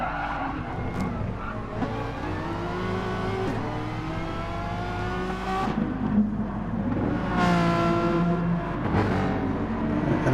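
Nissan GTR race cars scream past on the Fuji circuit, engines revving and rising in pitch as several cars sweep by in close succession, loud and near, with tire noise between passes.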